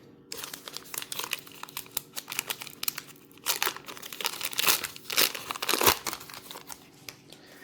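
2024 Parkside Vol 1 trading card hanger packs being torn open, with close, crackling foil crinkles and rips in uneven bursts that grow louder toward the end, no voices.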